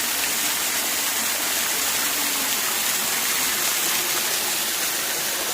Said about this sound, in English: Underneath Waterfall 2.